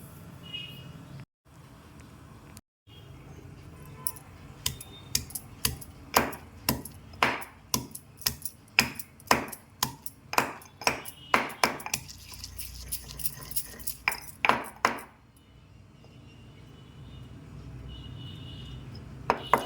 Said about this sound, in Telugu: వెల్లుల్లి దర్బలు తీసుకోవాలండి కొంచెం పరిమాణంలో ఉప్పు కారం జీరా పౌడర్ యాడ్ చేసుకుని దంచుకోండి